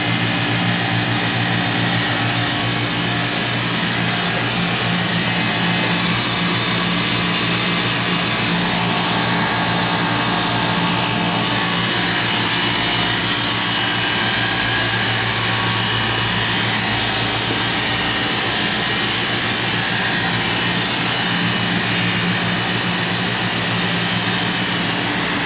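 An Oxford Plasmalab 100 ICP system runs its plasma in a lab, a steady, loud mechanical hum and hiss that holds unchanged throughout with no talk.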